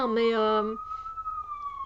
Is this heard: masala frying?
no